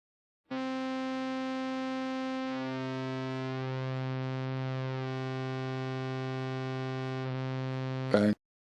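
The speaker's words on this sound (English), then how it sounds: "Sine wave" A steady sine-wave synthesizer tone with a rich stack of harmonics holds for about eight seconds, shifting slightly in pitch partway, then cuts off with a brief click.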